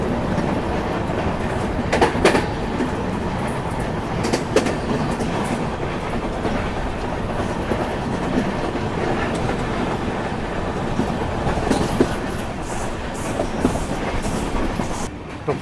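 A passenger train on the Ratnagiri to Kochuveli route rolls across the Mandovi river bridge, a loud continuous rumble and rattle with faint clickety-clack beats and occasional sharper knocks, heard from on board.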